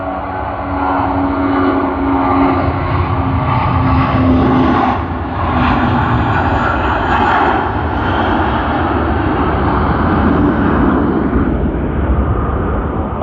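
A Cathay Pacific Airbus A350-900 airliner taking off at Sydney Airport, a loud, sustained jet engine roar heard from a distance that stays strong and steady for the whole stretch, with no voices.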